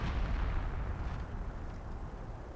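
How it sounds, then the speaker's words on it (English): A mortar round lands in a Company of Heroes battle, a loud low boom fading into a rumbling decay over a couple of seconds. "Got some mortar rounds coming down."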